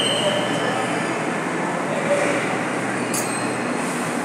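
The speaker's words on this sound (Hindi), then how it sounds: "ये देखिए और एक ट्रेन आ चुका है।" Navi Mumbai metro train pulling into a station, a steady broad rumble and rolling hiss with faint wheel squeal, continuous and fairly loud throughout.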